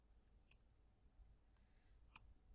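Two crisp, faint computer mouse clicks sound about a second and a half apart over quiet room tone.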